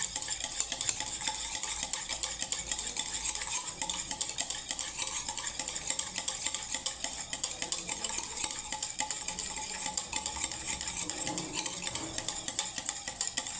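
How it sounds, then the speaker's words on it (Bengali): Yogurt being stirred in a bowl for shrikhand, a soft continuous scraping and squelching with faint utensil taps against the dish, close and steady throughout. "এই দইটাকে আমি এবারে ঘেটে নিচ্ছি শ্রীখণ্ড বানাবার জন্য"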